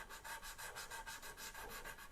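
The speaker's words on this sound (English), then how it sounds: "while at the same time sanding up the sides of it." Sandpaper rubs back and forth along the sides of a guitar fret during fret leveling and crowning, giving a steady, close, rhythmic scratchy rasp of about nine even strokes with no voices.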